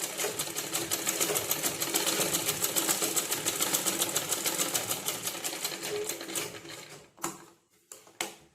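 A sewing machine runs fast and evenly, stitching a garment sleeve at a quarter-inch seam. The rapid mechanical ticking goes on steadily for several seconds, then stops and gives a couple of short bursts.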